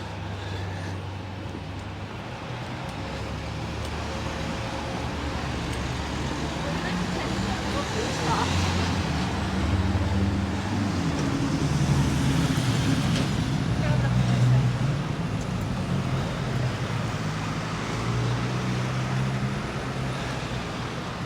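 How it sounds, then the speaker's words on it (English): Street traffic in Spitalfields, London: a continuous roar of passing vehicles, including low engine rumble that swells in the middle and then eases, heard from the pavement with the steady wash of the road throughout. "It's going to start getting noisy now because of all the traffic"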